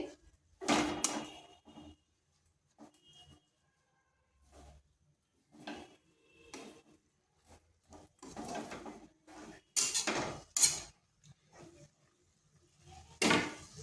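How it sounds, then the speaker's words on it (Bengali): Chopped drumstick (sajne) greens are stirred with salted water in a pan, giving a series of irregular scraping and clattering bursts of varying loudness with short quiet gaps between them. "শাকগুলো জলের সাথে ভালোভাবে মিশিয়ে নিচ্ছি।"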